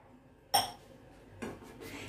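A heavy-bottomed pot clanks down onto a gas stove burner in a kitchen, one sharp metallic knock followed by a softer scrape of metal a moment later.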